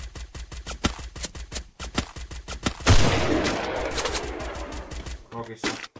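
Rapid bursts of gunfire in the video game Free Fire crackle in quick repeated volleys, giving way to a sustained noisy roar and a few final shots.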